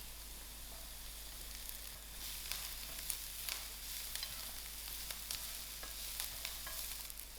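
Chilies fry in a pan for a prawn fettuccine pasta, a quiet steady sizzle with light crackles and occasional stirring scrapes, no voices.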